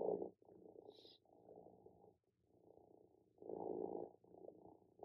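An interactive toy cat purrs, a soft, low rumble in rhythmic waves, faint and close, with no voices.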